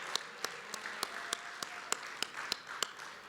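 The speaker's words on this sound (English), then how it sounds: "I think we all deserve just a round of applause for just being here in person." Sparse, quiet applause at a convention's opening session, a handful of distinct hand claps falling in a steady, loose rhythm over a faint room murmur.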